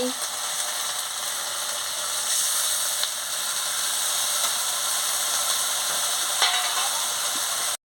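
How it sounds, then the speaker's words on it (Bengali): Spice paste with turmeric and chili powder, a little water added, fries steadily in a pan for a Bengali rohu fish curry, a soft continuous sizzle with occasional light scraping clicks from stirring. "মশলাটাকে ভালো করে আমি কষিয়ে নিচ্ছি"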